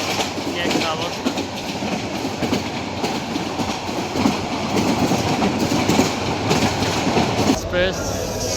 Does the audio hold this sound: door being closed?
no